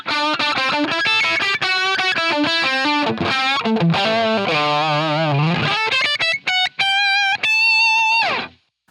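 Distorted electric guitar through a Line 6 Helix with no high cut, played loud and upfront with an abrasive, piercing top end; busy riffing gives way to sustained ringing chords that cut off at the end.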